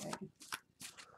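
Tarot cards shuffled by hand, quiet close riffling in a few quick bursts with brief pauses between them.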